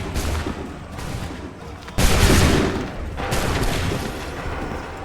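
Rolling volleys of musket fire from a line of soldiers in Assassin's Creed III, loud crackling blasts arriving in three or four overlapping waves with a sharp, booming onset midway.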